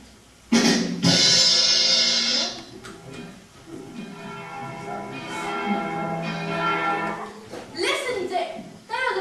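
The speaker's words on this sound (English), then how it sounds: "There are the bells." Church bells ring out from London town during a panto, a bright sustained peal with overlapping tones, loud and close at first, then softer under stage speech and music.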